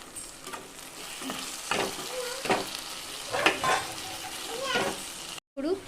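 A brinjal fry is stirred with chilli powder and coconut powder, frying in a pan. A moderate sizzle runs under repeated spatula scrapes in an uneven rhythm, then cuts off abruptly near the end.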